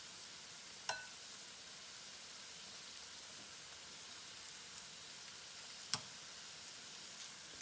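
Chicken tenders coated in spices sizzle steadily in a hot pan, a soft continuous hiss with two sharp clicks of a utensil, with no talking.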